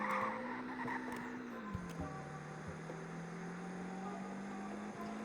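A used budget car driven hard through a corner with traction control switched off, a steady engine drone whose pitch rises then drops as it shifts, with faint tire noise, close and continuous.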